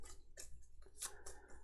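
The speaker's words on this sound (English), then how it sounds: "I am going to shuffle just to make sure" A deck of game cards for a solo tabletop campaign is shuffled by hand, with quiet, close riffling bursts and snaps in an irregular rhythm and no voices.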